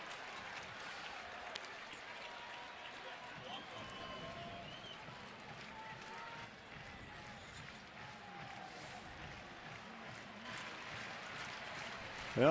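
A baseball stadium crowd in the bottom of the ninth cheers and applauds as a low, distant continuous roar under a commentator's voice.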